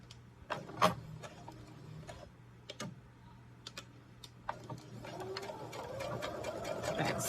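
A sewing machine stitches a 5/8-inch seam allowance on a jacket, back stitching with short bursts of quick mechanical ticking between pauses, then a steadier, louder run toward the end.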